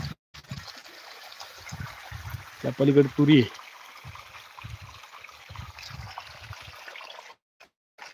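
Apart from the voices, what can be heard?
irrigation water flowing in a field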